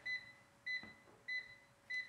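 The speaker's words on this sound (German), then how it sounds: "das Piepsen ist deutlich leiser geworden" A Cosori DualBlaze TwinFry air fryer's control buttons give four short, quiet electronic beeps, evenly spaced about two-thirds of a second apart, each a clean high tone against a faint background.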